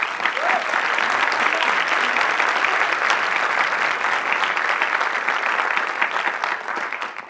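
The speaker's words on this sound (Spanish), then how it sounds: "Un aplauso, por favor." An indoor audience applauds at a dubbing casting event, steady dense clapping from many hands that holds for several seconds before easing slightly.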